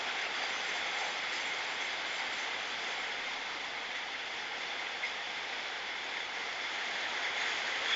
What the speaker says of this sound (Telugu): ఓ టూ మచ్ వర్షం ఉంది ఇక్కడ.